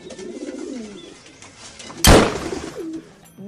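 A pigeon coos in low, soft, repeated rolling calls, cut by one sudden loud thud or slam midway, and then the cooing goes on.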